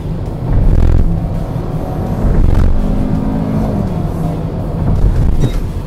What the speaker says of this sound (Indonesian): Kecuali suara mesin itu juga kalau misalnya kita ngegas gitu, kayak sekarang.